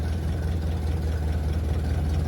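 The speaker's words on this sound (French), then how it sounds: "là je suis sur un régime moteur qui est pas trop mal pour un ralenti" A 1928 Ford Model A engine idles at a steady low rumble with an even, pulsing throb, loud and close, holding a constant speed throughout with no voices.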